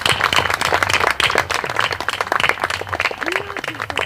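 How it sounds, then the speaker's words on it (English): An audience at a private book launch claps loudly and steadily for a man, the applause filling the room, with voices heard talking beneath it. "Can we give him a clap?"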